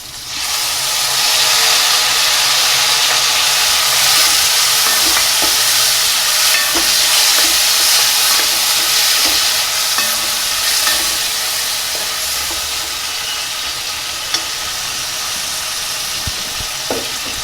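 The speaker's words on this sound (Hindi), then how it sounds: "अब ये जो नमक हल्दी मिर्ची की ये डालेंगे, इसको जलने नहीं देना।" Salt, turmeric and chili powder fry and are stirred in a hot pan for a cabbage, potato and tomato curry, giving a steady loud sizzle with scraping stir strokes throughout and no talk.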